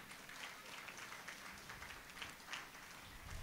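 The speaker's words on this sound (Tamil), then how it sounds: "கைத்தட்டுங்க." Congregation at a novena Mass at St. James shrine clapping, faint continuous applause from a gathered crowd throughout, with no speech over it.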